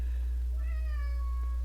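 A pet cat lets out one clear meow, close and distinct, rising then falling over a steady low hum in a quiet room.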